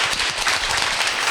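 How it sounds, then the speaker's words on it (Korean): Audience applause closing a professor's lecture, a brief burst of many hands clapping at moderate volume. "박수를 한번 주시고요."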